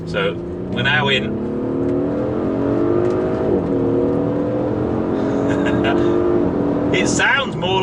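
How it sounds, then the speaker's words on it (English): Audi SQ5 with its 345PS V6 petrol engine accelerating, a loud, steady exhaust note rising in pitch with short pauses, while a person talks over it. "It's got an absolutely cracking exhaust tone"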